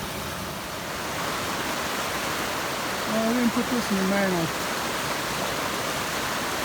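Mountain stream water flowing steadily across Wilson's Creek on a cold hiking crossing, a constant broadband rush filling the scene, with a person speaking briefly over it midway.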